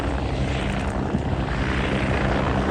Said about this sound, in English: Giving you a good view of the helicopter as it transitions now along the display